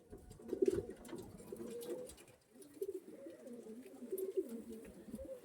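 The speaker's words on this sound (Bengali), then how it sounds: "একদম ছোট্ট পায়রা, দেখে নিন।" Small pigeons coo softly in low, throaty, repeated bursts, fairly quiet and close, with a faint background hum and no talking.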